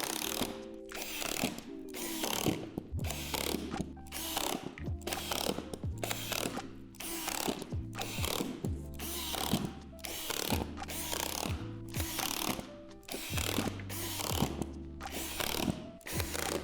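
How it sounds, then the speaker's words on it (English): Screws are driven into the floor panels of a Lifetime 15' x 8' outdoor storage shed. A steady, rapid ratcheting and mechanical whir repeats in regular pulses, close and continuous throughout. "locate these divots and insert the screws to hold them together"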